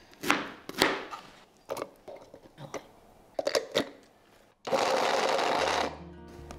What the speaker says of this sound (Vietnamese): mình cắt một khoanh thơm cho vô cối xay nhuyễn luôn để làm nước chấm ha